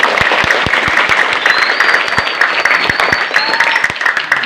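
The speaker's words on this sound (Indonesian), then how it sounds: "Jadi tepuk tangan dong buat Bu Sri." Loud, close applause from teachers and guests at a junior high school retirement and anniversary gathering, steady massed clapping with a few distinct sharp claps standing out and a faint whistle-like tone above.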